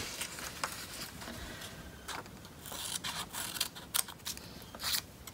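Scissors snip through paper to cut out a small beak for an Easter chick treat box, giving a run of sharp close crisp snips and rustles in an irregular rhythm with no talking.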